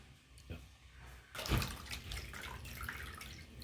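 Water sloshing and splashing as an ingredient for Ga kenkey is washed by hand in a bowl, a quiet start giving way to steady louder splashes close by.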